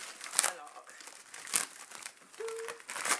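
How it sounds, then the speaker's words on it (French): Subscription beauty box packaging crinkled and rustled during unboxing, close-up bursts of crackling plastic or paper, with someone talking between them. "Mais on va la déballer, voir qu'est-ce que ce mois-ci a à offrir."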